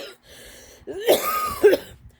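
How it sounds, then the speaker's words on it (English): A few harsh, close coughs, with a throat-clearing rasp between them, after a short quiet lead-in. "I've been having issues coughing all day."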